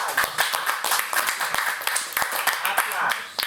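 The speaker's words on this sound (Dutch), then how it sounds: "Applaus." Audience applause for a Dutch performance evening at Eijlders: dense, steady clapping from a crowd that fills the whole moment, close and fairly loud, with no spoken voices.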